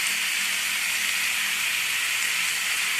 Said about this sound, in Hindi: अब मैं इसमें सॉस डालूंगी।